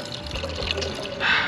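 Water pours steadily into a car's coolant reservoir under the hood, a short continuous trickle and splash close by that grows slightly louder toward the end.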